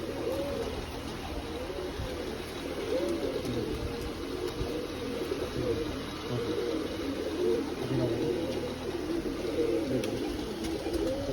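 Madrasi pigeons coo softly and repeatedly over a steady background hum, a continuous low rolling call.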